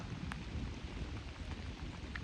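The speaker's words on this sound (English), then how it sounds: "It's raining pretty good right now." Steady rain falls outdoors, heard as a constant hiss and patter at moderate distance, with no voices.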